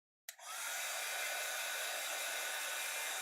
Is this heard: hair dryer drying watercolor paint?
yes